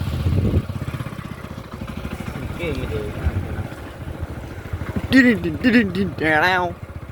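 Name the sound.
tractor approaching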